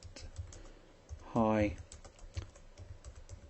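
Keys clatter on a computer keyboard as a name is typed into a box in planning software, a steady run of light clicks under a quiet voice, with one brief tonal chime partway through.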